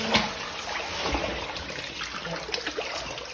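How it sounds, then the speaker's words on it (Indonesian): Water in a cave stream near Sanggulan village flows and trickles steadily, a close, continuous splashing wash with small gurgles and no talk. "kita sudah berada di aliran goa, tepatnya di Desa Sanggulan"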